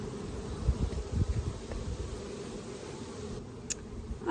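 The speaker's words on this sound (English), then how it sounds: "Okay, I had a bee in my pants." A bee buzzing close by, a low droning hum with a few louder bursts early on that then settles into a steady faint whir, with no voices.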